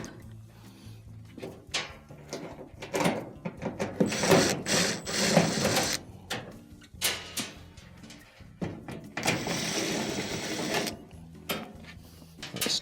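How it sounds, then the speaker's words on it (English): Phillips screws are driven out of the top panel of an LG dryer, heard as bursts of whirring power-driver noise with ratcheting clicks, separated by quieter pauses and a few handling knocks. "there are 3 Phillips screws that will need to be removed"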